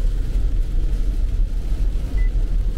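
Cabin noise of a Dacia Duster hybrid cruising at 100 km/h in poor weather: a steady low road and wind rumble, fairly quiet and unbroken, with no talk.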